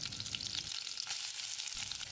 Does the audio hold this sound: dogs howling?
no